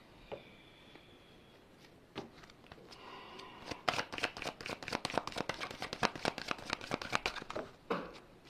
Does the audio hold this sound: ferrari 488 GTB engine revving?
no